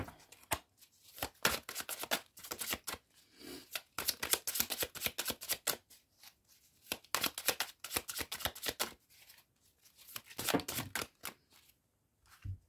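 Tarot cards are shuffled and drawn by hand in a steady, busy run of crisp riffles, slaps and flicks, close and clear with short gaps, without talk.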